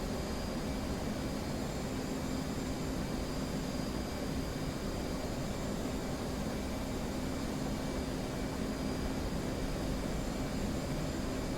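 An F/A-18 jet engine in the DCS flight simulator roars as a steady, broadband cockpit drone, holding at a constant loud level throughout.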